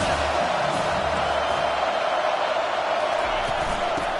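Stadium crowd noise in the College Football 25 video game, a dense, steady roar of fans filling the whole stretch at even loudness with no clear peaks.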